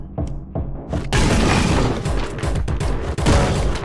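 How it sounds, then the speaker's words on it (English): A loud bomb blast from the kick-driven shooter Anger Foot erupts after a few short thumps, then rolls into a dense, sustained roar of explosive debris with more impacts layered on top. "Bomb."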